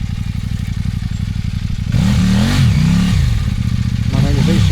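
Adventure motorcycle engine on a Balkan trail ride in Montenegro and Serbia, idling with a steady rumble before revving up loudly with rising and falling pitch sweeps, close and continuous, with faint voices underneath.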